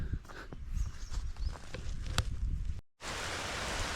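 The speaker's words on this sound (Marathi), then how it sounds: "जबरदस्त असा पाऊस चालू आहे बघा" Heavy rain falls in the Konkan countryside. Close, irregular drips and taps on a surface give way after a brief cutoff to a steady, dense hiss of downpour.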